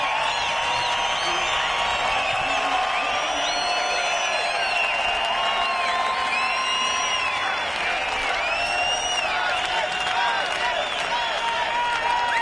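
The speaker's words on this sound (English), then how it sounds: "and listen to this crowd. What a salute." A large race crowd at a NASCAR Nationwide event in Montreal cheers and chants a hometown driver's name, a continuous roaring wall of voices with rhythmic chanting, loud and sustained.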